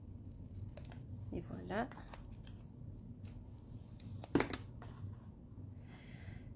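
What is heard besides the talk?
scissors cutting out a small paper envelope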